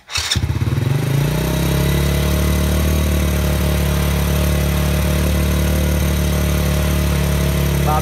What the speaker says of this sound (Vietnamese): thì bây giờ là mình sẽ lại để nổ máy lên